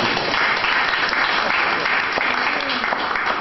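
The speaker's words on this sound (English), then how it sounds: "can you give her a good round of applause?" An audience at a Lagos health policy event gives a teacher a round of applause, full, sustained clapping filling the room at an even level throughout.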